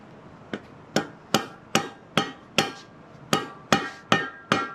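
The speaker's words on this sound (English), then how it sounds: "we'll be able to hear it when we start tapping it" A hammer taps a driveshaft grease seal into place on a 1933-1934 Ford torque tube, eleven times in a steady rhythm, each strike sharp and ringing briefly, close and fairly loud.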